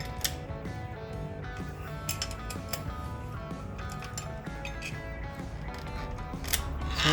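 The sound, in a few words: loosening an 8 mm screw with an L wrench on a Suzuki Burgman scooter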